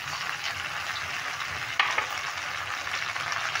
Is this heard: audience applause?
no